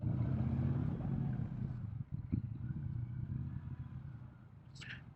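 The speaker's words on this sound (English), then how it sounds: "I like parking my motorcycle down at the end of the lot." A Triumph Speedmaster motorcycle engine idles and putters at low speed while parking in a lot, its rumble fading slightly toward the end, with a brief clatter midway.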